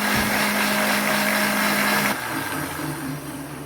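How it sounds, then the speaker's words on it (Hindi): A blender whirs loudly, blending cooked dates with half a cup of water for a chutney, a steady motor whine that drops in pitch partway through as it winds down, with no talking. "ब्लेंडर जग में डालेंगे और साथ ही आधा कप पानी का और शामिल कर देंगे और खजूरों को अच्छे तरीके से ब्लेंड कर लेंगे"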